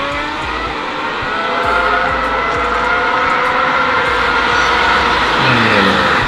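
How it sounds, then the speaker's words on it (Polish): A V8 car engine revs loudly and steadily with a rough, droning roar that builds slightly toward the end, heard alone without talk. "On już silnik grzeje."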